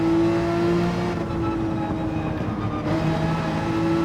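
A Porsche 911 GT3 race car, mid-engine and rear-wheel drive, holds a steady, loud engine drone with a strong sustained tone, easing slightly midway before pulling again, heard alone without voices.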